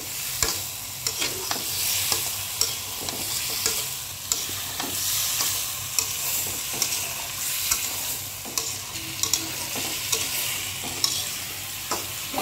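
Vegetables for a rohu fish curry sauté and get stirred in a hot pan, a bright continuous sizzle under repeated scraping spatula strokes at a steady rhythm, close and fairly loud with no talking.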